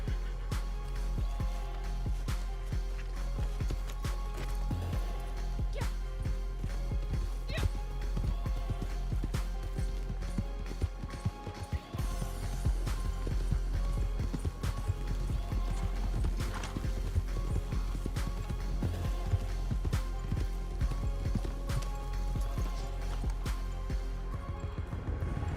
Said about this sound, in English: I call a horse and ride to the tree where I will find my first treasure map